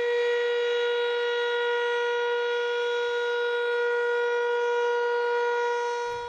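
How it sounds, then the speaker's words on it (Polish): A civil defense air-raid siren holds one long, steady wail, loud and unbroken, sounding in a Polish city to mark the anniversary of the Warsaw Uprising, with no voices over it. "Jutro w godzinę UW w wielu miastach Polski zawyją syreny przypominające powstańczy zryw"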